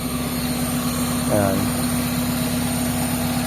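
A Toyota Corolla engine idles steadily at 1000 rpm with a constant, even hum, while someone briefly speaks over it.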